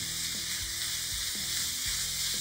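Ground beef sizzles steadily in a pan with half-fried onion, a continuous close frying hiss with periodic scraping stirs of a spoon, no voices.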